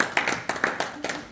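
Scattered claps from a small audience at a mental health talk, a few uneven bursts of hand claps spread over a short moment, fairly quiet and close, with some voices mixed in.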